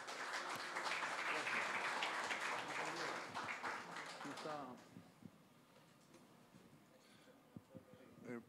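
An audience claps loudly to welcome an economist to a talk on farm cost models, a dense wash of applause for about four seconds that thins into scattered claps and fades, leaving a quiet room with a few isolated taps.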